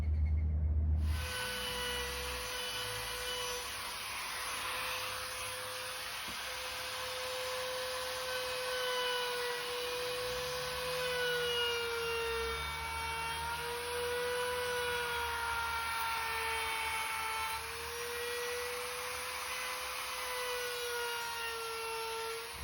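A wood router rounding over the top edge of an industrial-style end table with a 1/4 inch radius bit, giving a steady, loud, continuous whine with a high tone and slight pitch wavers as the cut moves along.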